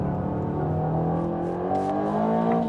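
A 665 hp Aston Martin Vantage accelerates hard on a fast lap, its engine note climbing steadily in pitch as revs build, loud and continuous with rich layered harmonics and a brief crackle near the end.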